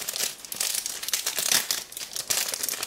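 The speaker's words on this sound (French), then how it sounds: "Je suis en train de tout arracher." Packaging torn away by hand during an unboxing, a close, loud stretch of continuous crinkling and ripping plastic and paper, restless and uneven throughout with no voice over it.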